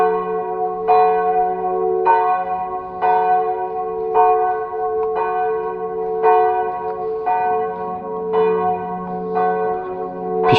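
A large church bell tolls in slow, steady strokes, roughly one per second, each ringing out with a long humming decay; no voices.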